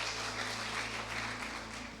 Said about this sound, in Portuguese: Gente, uma salva de palmas do nosso irmão, que Deus te abençoe, seja bem-vindo.